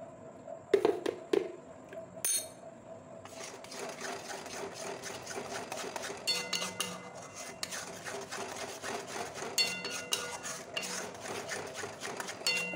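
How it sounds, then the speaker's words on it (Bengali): Powdered milk mixture for mango kalakand being stirred in a pan, a steady run of soft scraping and rubbing strokes with a few clinks of the spoon against the metal, fairly quiet and close. "আরেকটু নেড়ে নেবো। এটা নেড়ে যেতে হবে, নাহলে তলাতে জমে যাবে।"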